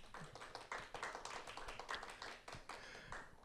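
An audience claps together at a church parents' school lecture, a fairly quiet, dense patter of many hands that carries on steadily for a few seconds without voices.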